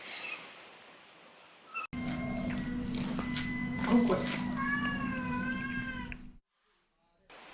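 A stray cat meows close by in a series of drawn-out, wavering calls over a steady low hum at a monastery in Myanmar, then the sound cuts off abruptly.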